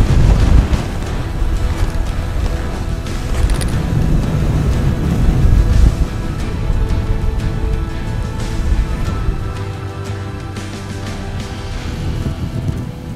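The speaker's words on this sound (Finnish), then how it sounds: "siltä varalta, että tämä tuuli vielä tästä yltyy" Strong wind on a snowy fell lake roars steadily across the microphone, a dense low rumble with gusty swells throughout, loud and continuous with no voices.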